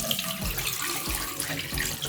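Water runs steadily from a tap in an RV bathroom during a leak test, a constant close splashing rush with no talk.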